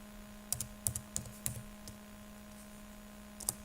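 Typing on a computer keyboard: a handful of close, crisp key clicks in small irregular bursts, quiet, with a steady electrical hum beneath and no talking.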